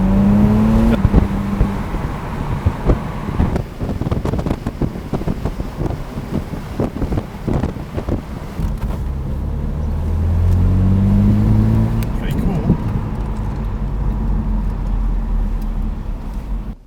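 A 2.5-litre petrol hard-top car drives along with a close engine drone that shifts in pitch, mixed with wind buffeting on the microphone and several sharp knocks and rattles.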